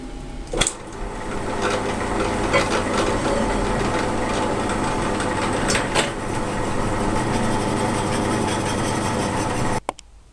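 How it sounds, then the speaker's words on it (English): Drill boring holes through welded steel angle iron on a workshop dolly frame: a loud, steady mechanical drone lasting about ten seconds, bracketed by sharp metallic knocks at the start and end. "all 4 holes are drilled"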